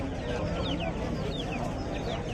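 Hens cluck and chatter at a busy Saturday hen market in Mydukur, with several short clucking calls repeating over a steady crowd murmur and background voices.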